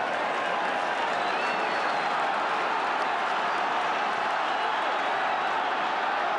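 A large rugby league crowd at the 1982 Australia versus Great Britain third test makes a dense, continuous roar with scattered clapping, heard from a distance as one steady wash of noise.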